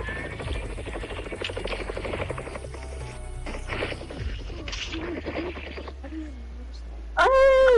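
A video game helicopter drones steadily under gameplay sounds and a voice, ending with a sudden louder tonal burst.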